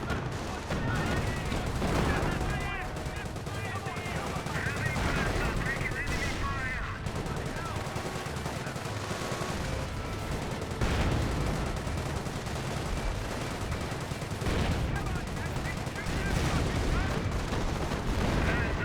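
Sustained .30 cal machine gun fire in the Company of Heroes strategy game, dense repeated bursts mixed with other battle gunfire and explosions, continuous and loud across the whole stretch.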